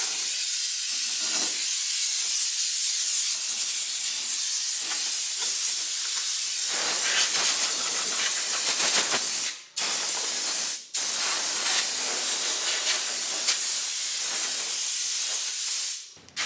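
Compressed air blasting sawdust off a rusty vintage 10-inch Atlas table saw, a loud continuous hissing spray broken by two brief pauses and ending in a short cutoff.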